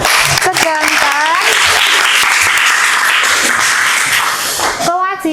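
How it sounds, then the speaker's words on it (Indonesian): Schoolchildren in a classroom clap together in a loud, dense burst of applause lasting several seconds, with a teacher's voice briefly heard at the start and end. "Kita beri tepuk tangan."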